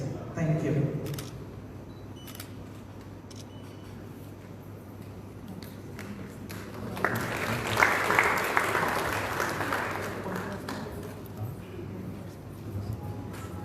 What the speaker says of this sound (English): give a loud round of applause to all our felicities